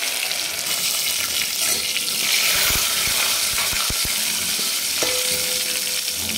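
Crushed ginger and garlic tempering in hot oil with a pinch of asafoetida, a bright steady sizzle close by, punctuated by a few light clicks and knocks of a spoon stirring.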